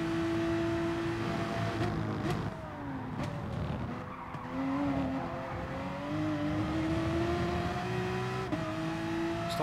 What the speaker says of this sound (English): Needs to start revving the engine a bit more though.